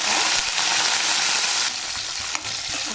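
Green chillies and fenugreek seeds fry in hot oil, a dense loud sizzle with crackling that drops slightly partway through, then continues close and steady.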